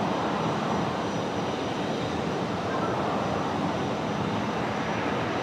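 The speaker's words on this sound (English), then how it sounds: "There goes the 330 Neo. Off home to New Caledonia." Airbus A330neo airliner departing Brisbane Airport for New Caledonia, its steady broadband engine roar holding level and fairly loud throughout, with no talk over it.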